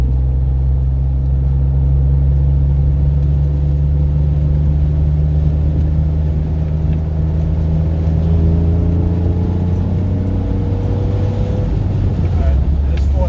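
Jeep JK fitted with an AFE Scorpion exhaust pulling in third gear, a deep steady droning exhaust rumble with slowly climbing tones over several seconds, continuous and close.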